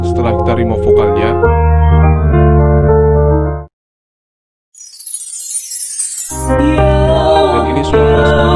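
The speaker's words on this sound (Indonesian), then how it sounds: "musik setelah kita remove vokalnya" An instrumental music track with the vocals stripped out plays loudly, cuts to a second of silence, then a sweeping tone leads back into the full-volume backing music.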